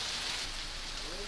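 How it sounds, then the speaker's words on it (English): Heavy rain pours down outdoors as a steady, dense hiss that stays even throughout, with no voices over it. "it's raining cats and dogs over here where I'm at"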